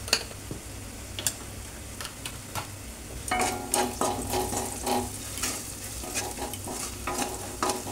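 Ground spices, chilli powder and cumin powder among them, sizzling in a pan, a low fry that swells midway while a spoon clicks and scrapes against the pan, with no one speaking.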